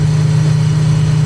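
A Dornier Do 335 propeller engine in a flight simulator at full throttle and full prop pitch gives a steady, loud, deep drone with a strong low hum, unchanging and with no speech.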